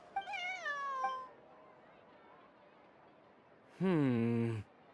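A cat in the Genshin Impact video game meows twice, a drawn-out falling meow at the start and a louder, shorter one near the end, with quiet game ambience between.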